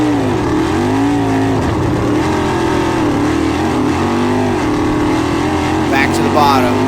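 A sprint car racing on a dirt track, its engine roaring loud and close with continuous rising and falling revs as it works through the corners, while a voice talks over it.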